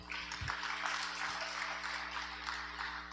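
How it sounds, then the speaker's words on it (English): A round of applause at a Class of the 80s get-together, steady clapping from a crowd heard at a moderate distance over a humming room, continuing evenly throughout. "She needs a round of applause."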